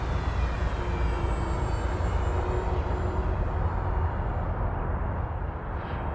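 An FMS F7F Tigercat 1700mm twin-engine RC plane, gear up at just over half throttle, makes a flyby: a loud, broad, continuous rushing roar that holds steady and eases slightly at the end.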